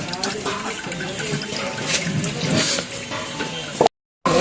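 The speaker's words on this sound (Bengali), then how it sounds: "এখন তো চাউল ধোয়া হচ্ছে এখানে" Rice is being washed in water at a wedding kitchen, with a close splashing, sloshing wash and running water over a few seconds. Voices talk over it before it cuts off abruptly.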